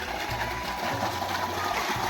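Water runs steadily into a farm water tank with a continuous splashing flow, accompanied by a low mechanical hum that pulses under it.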